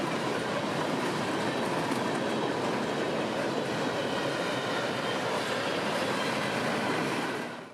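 Northbound freight train 604 on the North Florida S-Line double track near Stark, its steady loud roar of rolling cars and wheels continuing unbroken before fading at the very end.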